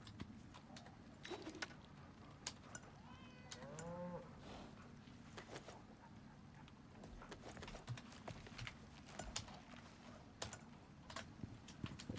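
Repeated cow moos from a farm animal in the survival game Icarus, pitched low and drawn out, mixed with clicking and clopping game sounds, with no talking.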